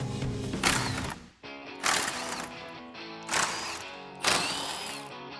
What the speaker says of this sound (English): take my extension 10 millimeter socket and my cordless impact and remove the two bolts on each side